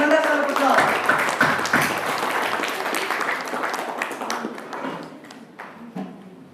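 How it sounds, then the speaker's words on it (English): Audience applause welcoming a speaker at a Toastmasters club meeting, dense sustained clapping from a roomful of people that starts strong and gradually thins out toward the end, with a few brief voices mixed in. "Please help me welcome Toastmaster Imtiaz with a tremendous round of applause."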